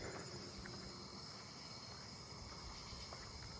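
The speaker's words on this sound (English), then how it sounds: "the common true katydid sounds slower tonight" Common true katydid calling at night in a quiet neighbourhood, faint, slow rasping pulses repeating over a soft background hiss, distant and low in level.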